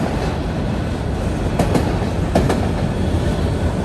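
A long freight train with distributed power units rolls steadily past at close range near a motel in Sharonville, Ohio: a dense, continuous rumble with a few metallic clanks from the passing cars.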